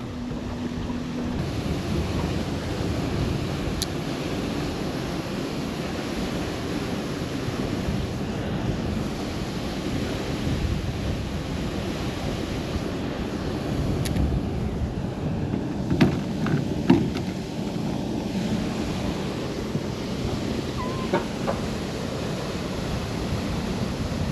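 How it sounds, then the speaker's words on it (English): Strong wind roars steadily across the microphone on a winter lake while crappie fishing, a constant broadband buffeting with occasional gusts and faint water sounds, no talking. "This wind is freaking nuts."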